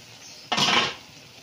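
A metal lid set down onto a cooking pot of vegetables, a single short clatter and scrape standing out clearly from a quiet kitchen, then fading quickly.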